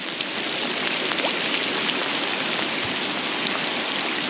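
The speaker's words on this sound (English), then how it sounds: "Now it's raining really hard." Heavy rain pours down steadily on a riverbank during summer floods while fishing for sea trout, a dense, constant hiss close by with no letup.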